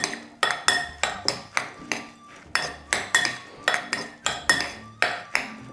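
A utensil clinks sharply and rhythmically against a bowl while ingredients for cold beetroot soup are stirred together, roughly a dozen close metallic strikes in a quick, steady beat.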